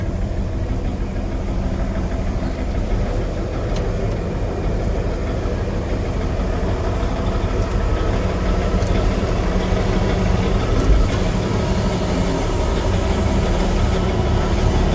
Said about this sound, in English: Gotta love an articulating tractor, man.